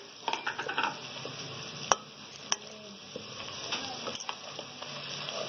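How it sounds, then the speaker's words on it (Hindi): Spiced masala of crushed red chilli, chilli flakes and red chilli powder frying in a pan for bhuni masala kaleji, with a steady soft sizzle broken by a few sharp spoon scrapes and clicks, close and without talk. "अब इसको अच्छे से हम भून लेंगे 2 मिनट तक।"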